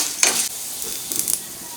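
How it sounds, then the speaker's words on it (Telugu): Oil sizzles steadily as dried red chillies and curry leaves fry for tempering, with a couple of brief stirring scrapes in the pan; no voices. "ఇక్కడ తాలింపు బాగా వేగిందండి ఇలా దోరగానే వేగాలి"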